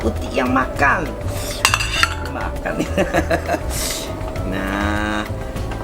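Largehead hairtail fish being stirred in a pan, with repeated metal clinks and scrapes of a utensil against cookware, close by, while people talk over it.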